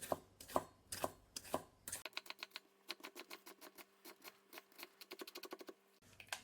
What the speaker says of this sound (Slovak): Cibuľu nakrájam na drobné kúsky.